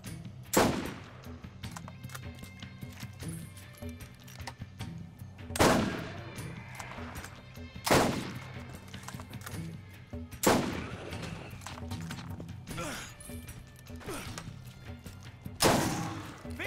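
Gunfire in the video game Borderlands: several sharp, loud shots ring out at irregular intervals over a steady game background hum.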